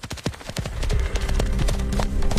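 Horse hooves clatter in a quick, uneven rhythm of sharp knocks, close and prominent, picking up pace as a steady rumble builds underneath.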